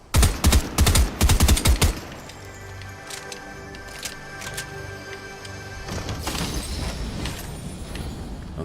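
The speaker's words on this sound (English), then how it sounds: "Let me shoot the gun a couple times." Gun shots in Fortnite: a loud, close burst of about ten rapid cracks at the start, then quieter game ambience with a few scattered faint pops and rising noise toward the end.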